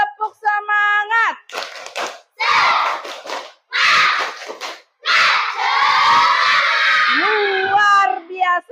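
Children in a classroom repeat the tepuk semangat spirit clap. A pitched voice leads off, then group claps and chanting come in short rhythmic bursts, ending in a long, loud collective shout with cheering voices.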